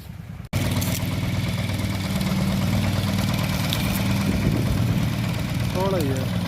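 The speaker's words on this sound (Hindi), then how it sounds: "पहले पेड्डी की जुताई करवाते हैं छोटे वाले ट्रैक्टर से" Small tractor engine running steadily while ploughing a paddy field, a loud continuous chugging drone after a brief silent start, with faint voices near the end.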